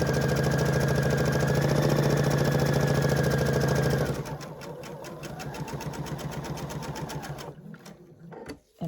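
A sewing machine stitches a quilted placemat, running fast and steady for about four seconds, then slowing to an uneven, chattering stitch before it stops.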